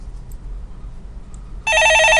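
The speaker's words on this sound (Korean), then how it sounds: "전화가 옵니다" A telephone rings with a bright electronic trill that starts abruptly after a quiet stretch of faint room noise, close and loud.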